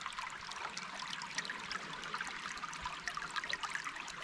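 A creek in the Uwharrie backcountry flows steadily, a continuous bright trickling and splashing rush that stays even throughout, close by and without talk.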